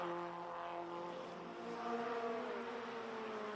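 F1600 race cars battling for position at Mont Tremblant in 1993, a steady engine whine rising slightly in pitch, heard moderately distant and fairly faint.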